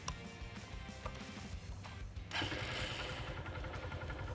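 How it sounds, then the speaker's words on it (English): A motorcycle engine on a learner bike cranks and fires, then settles into a steady, close running rumble that grows louder about halfway through. "If I start my engine right now"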